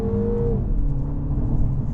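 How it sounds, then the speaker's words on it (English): Inside the cabin of a 2024 MINI Cooper S in go-kart mode, the engine holds a loud, steady drone with a faint tonal whir running through it. "Sounds even louder in here and the car just fizzes."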